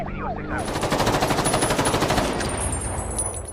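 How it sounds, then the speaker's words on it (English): Sustained automatic gunfire in a robbery shootout with police, a dense rapid rattle of shots that stays loud and close for about three seconds before thinning into echoing bursts. "We are under heavy fire!"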